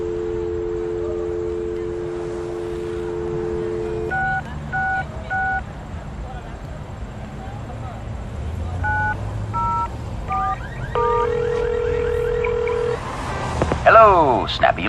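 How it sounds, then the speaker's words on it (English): In the video game Leisure Suit Larry Reloaded, a telephone gives a steady dial tone, then short bursts of beeping touch-tone dialing keys follow, ending in ringing and electronic warbles, all clear and close with no voices. "You pick up the phone, and to your delight, you get a dial tone."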